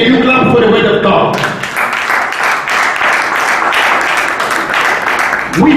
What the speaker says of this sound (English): Can you clap for the word of God?